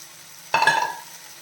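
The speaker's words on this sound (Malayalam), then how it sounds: "നമ്മൾ എടുത്തു വെച്ചിരിക്കുന്ന മല്ലിയിലയും പുതിന ഇലയും ഇട്ട് കൊടുക്കാം." A brief burst of sizzling and stirring as coriander and mint leaves hit softened tomatoes in a hot pan for chutney, rising sharply then fading within half a second.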